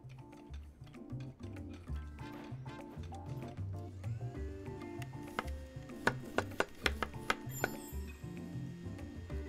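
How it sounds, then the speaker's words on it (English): Knife chops on a cutting board in the Chef Life cooking game, rapid repeated ticks in bursts, with a few sharper louder strikes near the end. "We gotta do some chopping."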